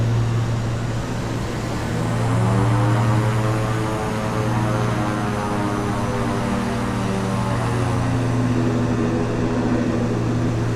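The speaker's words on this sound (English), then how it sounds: "Yeah, I think the prop RPM is too high." Propeller aircraft engine in Microsoft Flight Simulator 2024, flying from Klamath Falls to Coeur d'Alene, drones steadily and loudly throughout with a strong low hum and shifting harmonic tones, no talking.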